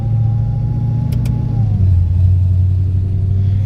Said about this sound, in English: And the backwards rattling, it's the tailpipe.